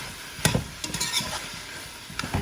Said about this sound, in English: I'll give it a quick stir.